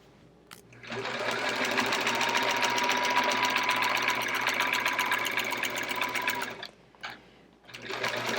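Sewing machine stitching in the ditch on a Charming Chevrons quilt, a fast steady whirring run of several seconds that stops, then a brief restart; faint talk around it.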